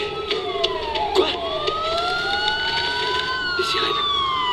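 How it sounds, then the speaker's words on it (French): Several police sirens wailing together in Batman: Arkham Asylum, overlapping rising and falling tones over a steady background rumble, moderately loud and sustained. "Les sirènes. La police."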